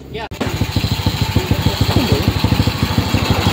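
Honda XRM 110 motorcycle engine idling close by, a steady rapid thumping pulse starting after a brief click, running evenly throughout with faint talk in the background.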